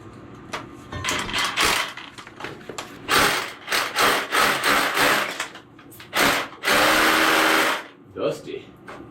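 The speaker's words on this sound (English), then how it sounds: "let's just drill the second one and see what that" A power drill bores into rock inside a cave, whirring in several loud bursts of varying length with gaps between, while people talk close by.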